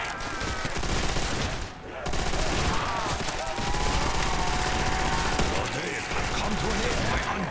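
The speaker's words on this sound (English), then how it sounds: "this MP4 is taking loads of bullets" Rapid MP4 gunfire rattles in a Minecraft custom zombies game, dense bursts of shots running almost continuously with a brief pause, under a voice talking.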